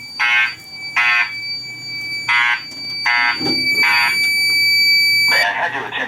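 A building fire alarm system sounds loud, evenly spaced electronic buzzing tones in repeated bursts with a steady high tone, followed by a chime leading into a recorded announcement voice.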